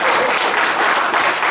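A congregation at a faith seminar breaks into loud, sustained applause, dense clapping from many hands filling the whole moment.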